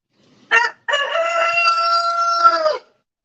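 A rooster on a small homestead keeping about twenty roosters with its hens gives a loud, close crow: a short opening burst, a brief pause, then a long sustained harmonic call lasting about two seconds.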